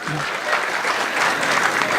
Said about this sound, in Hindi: ताली वाली बजा दो इनके लिए।